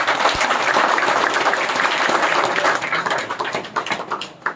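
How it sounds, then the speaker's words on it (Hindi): Applause from a crowd at an organisation's meeting in Ramgarh, a steady dense clapping that runs for several seconds, then thins and tapers off near the end. "एक बार ताली मार के सबका स्वागत कर"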